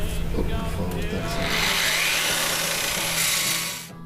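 A belt sander grinds in a concrete sculpting workshop, a loud, steady hiss that starts partway through and runs until it cuts off near the end, with voices and a low hum underneath at first.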